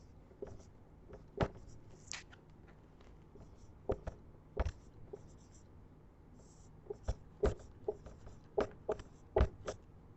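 Pen scratching on paper while an answer is written out in a Sanskrit exercise, with sparse, irregular strokes and taps that grow denser toward the end over a quiet room background.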